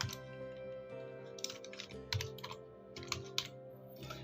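Keys clatter in quick irregular bursts as data is entered into Tally ERP 9 accounting software on a computer keyboard, close and fairly quiet, with short pauses between runs over a steady low background hum.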